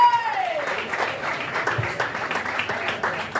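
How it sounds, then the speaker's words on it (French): Sustained applause from a sizeable audience, dense steady clapping throughout, with a brief whistle-like tone fading at the start. "Et on applaudit encore une fois pour Jean-Luc Maquet"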